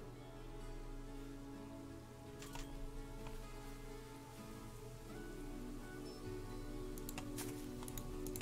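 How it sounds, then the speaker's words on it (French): Rain in the video game Planet Zoo patters softly and steadily, a faint continuous hiss with scattered ticking drops over a low ambient hum. "Ouais, ça y est, c'est la pluie."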